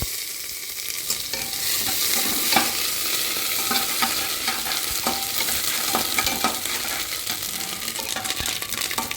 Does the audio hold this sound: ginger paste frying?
yes